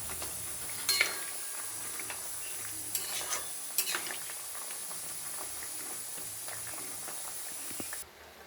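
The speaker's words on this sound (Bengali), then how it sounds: "ঝোল ফুটে গেছে, এবার মাছগুলো দিয়ে দেবো" Fish pieces go into a boiling curry gravy in a pan, with a steady close hiss and bubbling broken by a few splashy clatters near the start.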